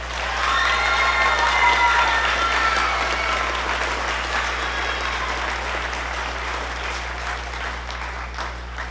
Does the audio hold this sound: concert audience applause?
yes